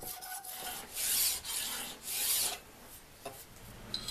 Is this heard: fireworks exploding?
no